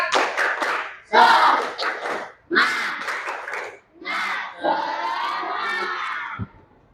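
A school class performs tepuk semangat, a rhythmic clapping chant, with loud group voices shouting in several energetic bursts and ending on a long, sustained collective shout.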